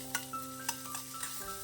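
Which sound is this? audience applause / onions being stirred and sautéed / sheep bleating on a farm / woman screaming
onions being stirred and sautéed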